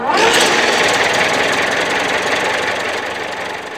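The original, rebuilt engine of an old REO Speedwagon hearse runs close by, giving a loud, steady, rough mechanical roar with a faint knocking texture that eases slightly toward the end.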